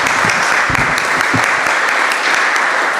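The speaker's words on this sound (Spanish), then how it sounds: "Y pido un aplauso de todos para los señores expositores." An audience gives a round of applause to the speakers of a closing question-and-answer panel, a steady dense clapping that holds at full strength from start to end.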